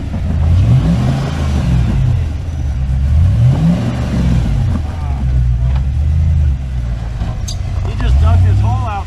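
Rock crawler on 40-inch tires powered by a V8 LT1 with an 8-speed transmission, revving in repeated surging bursts as it climbs over rocks, loud and close, with people talking over the engine.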